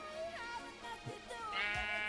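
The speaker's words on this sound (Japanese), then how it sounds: "ちょっと羊さんがいるんだよね。" Sheep bleating in the Minecraft video game, several wavering bleats in a row at a steady moderate level over faint background game sound, with no talking.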